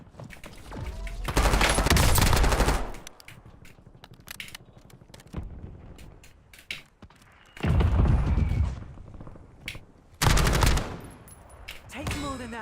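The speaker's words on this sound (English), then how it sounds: "Incoming shots." Gunfire in Call of Duty: Warzone, with three long loud bursts of automatic fire separated by scattered single shots and clicks, close and harsh.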